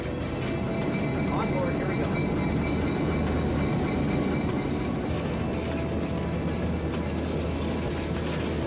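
Heritage train on the former Denver and Rio Grande Western Railroad line through the Royal Gorge, heard from the cab: a loud, steady rumble of wheels and engine with a constant rolling roar, and speech faintly beneath it.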